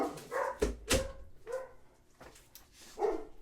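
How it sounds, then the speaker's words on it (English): Dogs bark a few times at a moderate distance, short sharp barks spaced irregularly over a quiet room with no speech. "Sorry about the dogs."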